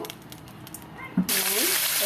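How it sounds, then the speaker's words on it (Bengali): Rohu fish dropped into hot oil in a wok sets off a sudden loud, steady sizzle after a quiet stretch with faint background noise. "মাছ ভাজা বসে দিয়েছি"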